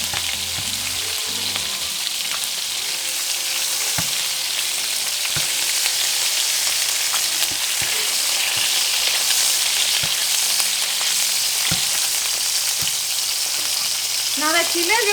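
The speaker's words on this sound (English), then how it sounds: "you're kind of just gonna wet them in the oil and just move it to the other side" Dried chiles frying in hot oil for mole de olla, a loud steady sizzle and crackle that runs throughout, with occasional soft knocks of a utensil stirring the pan.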